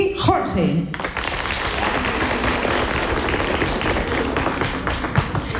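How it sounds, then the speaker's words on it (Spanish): An audience at a 1995 televised rap competition bursts into sustained, dense applause and cheering, beginning abruptly after a brief voice and filling the clip loudly throughout. "Y ahora el aplauso para la primera pareja,"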